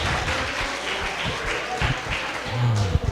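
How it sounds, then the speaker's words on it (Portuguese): A church congregation applauds during an opening worship service. The clapping is moderately loud and steady, with a few sharper claps and some voices mixed in toward the end. "Vamos aplaudir Jesus na vida desses irmãos"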